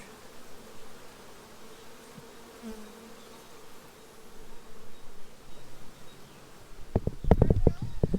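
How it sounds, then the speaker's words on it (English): Steady, droning buzz of many honeybees swarming close around a beekeeper's suit at a small nuc hive, ending in a burst of loud rustling and thumps near the end. "I got bees bumping me in the head trying to get into my suit."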